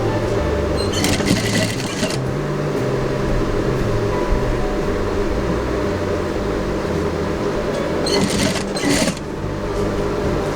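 A domestic sewing machine stitching small running stitches on chudidhar fabric, a steady mechanical whir with a fast rhythmic needle clatter that runs continuously and loud throughout, with brief bursts of higher rattle in between.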